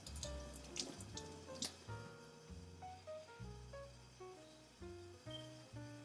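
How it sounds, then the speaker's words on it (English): A trumpet mouthpiece is rinsed in water, with soft sloshing and splashing and gurgling bubbling tones coming in short irregular bursts, close and fairly quiet. "we're going to take our trumpet mouthpiece and rinse it in the water"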